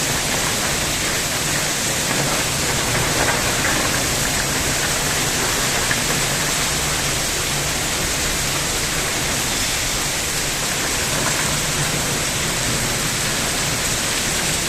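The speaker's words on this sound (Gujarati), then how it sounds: "વરસાદ પવનના સાથે છે." Rain comes down in strong, gusting wind that has knocked out the power, a full, steady roar of water that stays loud and near without pause, and no one speaks.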